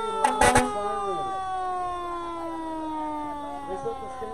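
Loud fire truck siren from South King Fire and Rescue at a street parade, a sustained wail slowly gliding downward, with a few sharp horn-like blasts at the start and crowd murmur beneath.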